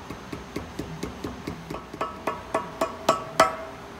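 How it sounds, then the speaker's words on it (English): A rubber mallet taps a trike swingarm into place during installation, about fourteen sharp, evenly spaced knocks that grow gradually louder toward the end, close and clear with no talking. "Just tap her in with your hammer until she's seated."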